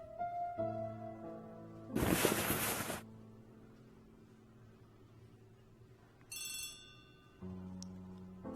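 A telephone rings in the Agatha Christie The ABC Murders video game: tonal electronic tones with a harsh burst near the start and a brief bright chime later, moderately loud with no talking.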